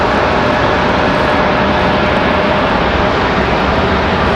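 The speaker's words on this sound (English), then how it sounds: "next arrival, American 2308 coming in from Los Angeles." An American Airlines Boeing 737-800 arriving at Raleigh-Durham International roars loud and close in a dense, unbroken wash of jet noise that holds steady from start to finish without any voices.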